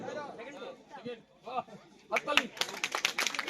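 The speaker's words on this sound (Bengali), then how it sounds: "তোমরা একটু করতালি দাও, করতালি দাও, তাদেরকে অনুপ্রাণিত করো" Students at a school annual sports prize-distribution ceremony clap, starting as scattered claps under a speaking voice and swelling into a burst of brisk, sharp clapping in the second half.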